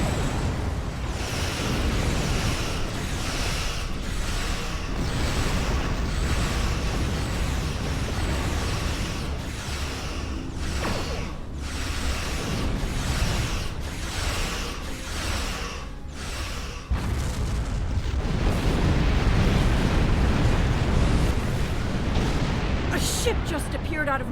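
Explosions rumble as a Tholian tarantula ship is destroyed in the space game Star Trek Online, a dense, loud wash of blasts and weapon fire running throughout, with a voice talking over the battle.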